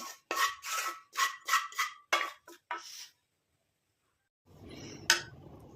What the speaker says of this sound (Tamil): இப்போ அதை பவுலுக்கு ட்ரான்ஸ்ஃபர் பண்ணிடலாம்